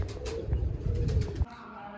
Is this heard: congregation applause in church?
no